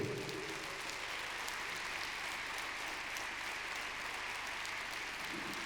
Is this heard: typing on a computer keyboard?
no